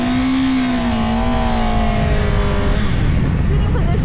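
A four-cylinder motorcycle engine revs in a high, smooth whine that rises and falls, loud and close, with a steady roar underneath, at a motorcycle show.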